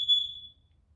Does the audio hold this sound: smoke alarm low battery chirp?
yes